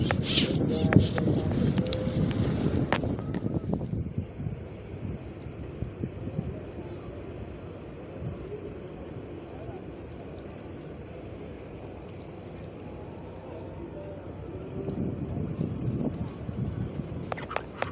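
Strong wind roars across the microphone on a small boat at sea during a rabbitfish fishing trip, a steady loud rush that briefly swells at the start and end, with no talk.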